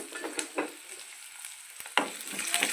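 Garlic, ginger, onions, cinnamon, poppy seeds and peppercorns frying in a pan for Andhra-style chicken sukka, a quiet sizzle with scattered scraping stirs, growing louder toward the end.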